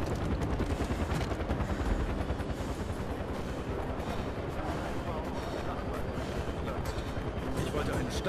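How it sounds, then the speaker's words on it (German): Helicopter rotor drone with heavy gunfire and explosions in the video game Far Cry 4, a loud, dense, continuous rumble throughout. "Ein Hubschrauber."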